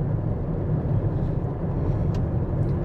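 A column of cars in a morning traffic jam in Sevastopol passes as a steady, close, low rumble of engines and road noise heard from inside a moving vehicle.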